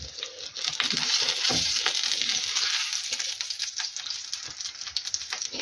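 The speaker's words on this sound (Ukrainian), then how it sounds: "І так далі буду продовжувати смажити, посмажу, покажу." Pounded pork chops frying in a pan give a loud, constant sizzle with scattered crackles and pops, close by and without talk.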